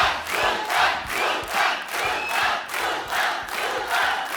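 A TV comedy-show studio audience cheers and applauds loudly, swelling in repeated rhythmic waves of shouting and clapping, with no speech.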